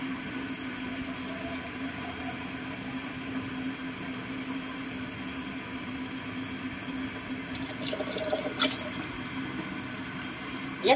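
Water is poured over a dog during its first bath, a steady, soft splashing and trickling that runs throughout at low volume, with no talking.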